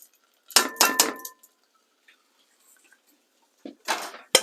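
Metal utensil scrapes and clatters against a large frying pan while stirring leeks, in a few sharp bursts, with quiet gaps between the stirring strokes.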